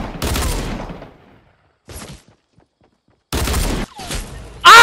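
Desert Eagle pistol gunfire in a video game, several loud sharp bursts of shots separated by near silence, with a brief clanking effect at the very end.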